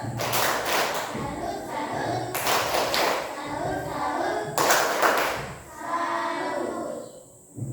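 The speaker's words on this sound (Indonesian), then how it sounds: "Tepuk salut." Audience doing a rhythmic salute clap in a classroom group presentation, three bursts of patterned clapping with thumps between them and voices over them, fading near the end.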